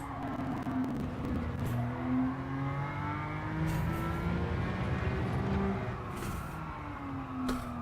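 Sustained whining engine and tyre squeal with gliding pitched tones, continuous and fairly loud, as a McLaren GT3 race car slides through corners in a racing game.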